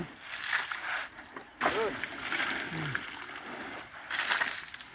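Water splashing and sloshing as a little one is bathed by a grandfather on a very cold day, with bursts of splashing between quieter pauses and a voice talking nearby.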